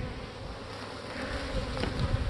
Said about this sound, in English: that box has bees, it's actually foragers from all the hives